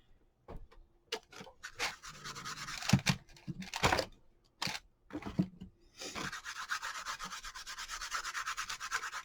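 Paint is rubbed into a faux leather journal cover in close, uneven bursts of dry scratchy rubbing, and the last few seconds hold one long continuous rub.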